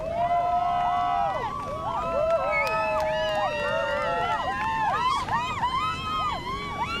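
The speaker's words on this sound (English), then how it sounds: "the crowd go wild" Beachside crowd at the Huntington Beach Longboard Classic surf contest finals cheering loudly, with high whistles and yelps sliding up and down over a constant roar of voices.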